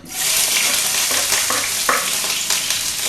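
Ginger frying in hot sunflower oil in a kadai while making gobi manchurian: a loud, steady sizzle with a few sharper crackles and stirring scrapes, close and continuous.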